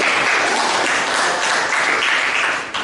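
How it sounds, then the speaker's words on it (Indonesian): A classroom of students gives a round of applause, a thick, continuous patter of many hands clapping up close that tapers slightly at the end, with no talking. "Kita kasih tepuk tangan."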